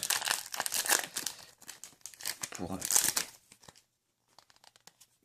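Foil wrapper of a Pokémon XY booster pack crinkling and tearing open in close, dense bursts for about three seconds, then falling quiet, with a voice speaking over the rustling.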